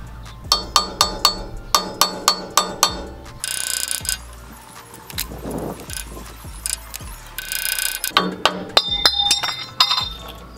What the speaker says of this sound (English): I'll be using a cold chisel to slowly pry it around the outside of this so this thing comes off real easy